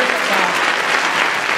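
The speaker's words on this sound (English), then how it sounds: "One more round of applause for all of the orchestras of Marshall Middle School." An audience at a Marshall Middle School winter orchestra concert applauds loudly after the performance, a dense continuous clapping that stays full and even throughout.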